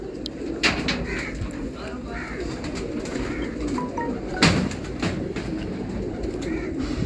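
Pigeons kept by pigeon fanciers cooing in a loft, soft repeated coos and light bird calls under steady background noise, with a brief louder flutter midway.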